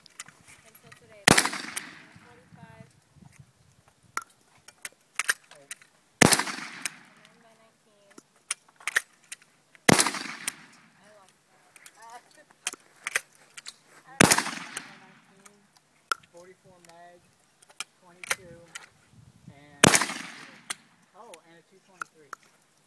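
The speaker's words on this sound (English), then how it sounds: "This is rapid firing a single shot." Five sharp gunshots from a single-shot gun ring out at roughly four- to five-second intervals, each loud crack trailing off, with people talking in between.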